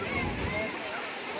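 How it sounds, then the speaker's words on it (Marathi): Rough sea waves crash and wash against the shore at Haji Ali in Mumbai, a loud, continuous broadband roar of churning water. "एकदम समुद्र खवळा आहे."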